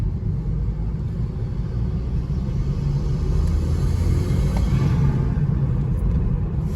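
A BMW G20 320i running with an MST air intake filter gives off a steady, low, rumbling drone that holds evenly throughout, heard close and alone with no voices.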